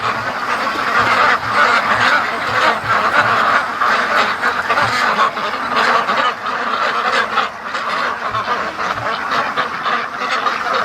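A flock of free-range ducks on a lake quack and honk continuously, many overlapping calls close and loud in a busy feeding frenzy, with no talking.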